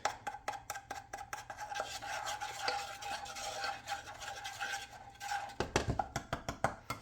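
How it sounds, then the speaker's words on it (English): Corned beef sears in a hot pan at home, a steady broadband sizzle with rapid scraping and stirring strokes from a utensil, loud and close, with a burst of sharper clatter near the end. "you can hear it searing up and you don't want to dry it out"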